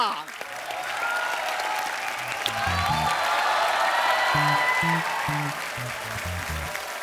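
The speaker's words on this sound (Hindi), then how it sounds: "जोरदार तालियों से स्वागत कीजिए" Loud, sustained applause from a comedy show audience fills the room, with upbeat music playing underneath.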